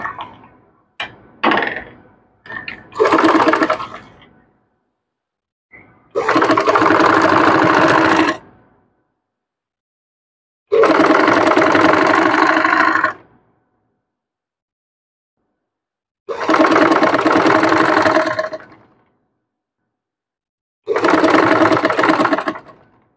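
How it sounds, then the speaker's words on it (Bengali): A sewing machine stitching a sleeve runs in several bursts of a few seconds each, separated by silent pauses, after some short handling clicks and knocks at the start. The stitching sounds close and fairly loud. "উপর একটি আমরা চাপ সেলাই দিয়ে নিব"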